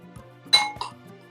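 A spoon clinks against a bowl while mayonnaise is stirred with salt and black pepper, giving a few sharp, close taps and scrapes over a quiet background.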